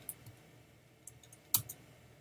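A computer keyboard typed on for a search, giving a few sparse, faint key clicks spread out with one sharper, louder click near the end.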